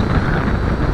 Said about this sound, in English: fighting the wind, 15 knot wind